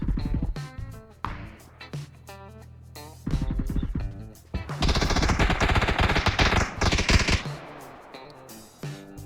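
Gunfire in PUBG, rapid automatic bursts and separate single shots in quick clusters, loud and close, with a long sustained stretch of firing in the middle.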